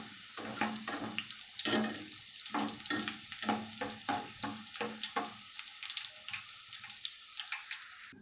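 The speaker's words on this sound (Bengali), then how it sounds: "এবার এটা ভালো করে ভেজে নেব।" Boondi batter drops deep-frying in hot oil: a rapid run of crackling bursts as drops hit the oil, thinning out into a quieter sizzle.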